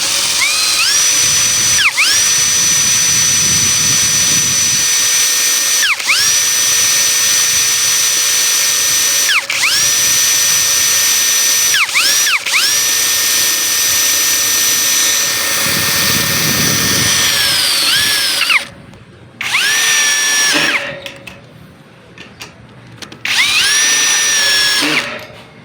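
A power drill whines loudly as it drives tek screws into welded metal, in a sustained high-pitched run broken by brief pauses and restarts, with the motor pitch dropping and rising near each stop.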